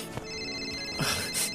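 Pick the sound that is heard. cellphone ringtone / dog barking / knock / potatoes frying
cellphone ringtone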